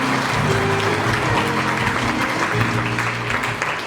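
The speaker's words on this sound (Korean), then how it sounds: "다시 한번 박수 부탁드리겠습니다." Audience applause at a Gyeonggi designer-village agreement signing and naming ceremony: a sustained, even rush of many people clapping indoors over a low steady hum, fairly loud throughout.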